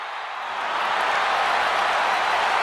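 A wrestling crowd at a Saturday SmackDown event roars steadily, a broad wash of cheering that swells in the first second and holds loud and continuous, with no distinct voices.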